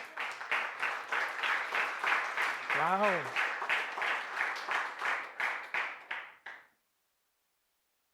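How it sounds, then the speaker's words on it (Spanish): A church congregation applauding during a Spanish-language worship service, a steady rhythmic clapping that continues for several seconds and then stops abruptly, with a brief exclamation partway through. "Denle un fuerte aplauso al Señor."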